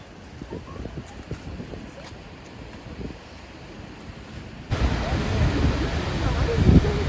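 Mallalli Falls in Coorg, in full flow, roars in a steady broadband wash, suddenly growing louder and fuller partway through, with no voices.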